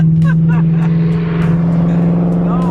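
A car idling close by with a steady low engine hum, its rumble holding under nearby voices as it pulls up.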